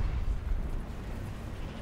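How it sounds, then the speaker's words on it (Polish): A tank cannon shot in the War Thunder tank battle on the Volokolamsk map lands as a heavy, low rumbling boom that stays loud and dense through the short stretch, with no clear break. "Tym razem strzał nieudany."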